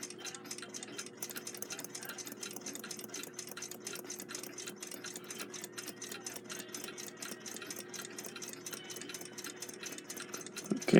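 A Westclox Big Ben Loud Alarm style 5A clock movement runs under light rotational pressure on the center wheel, giving a fast, even, close ticking that continues steadily for the whole stretch.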